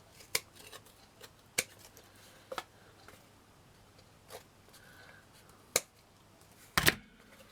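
Small scissors snip in sparse, sharp, close clicks while trimming pieces for a miniature flour mill model, quiet with faint rustling between cuts.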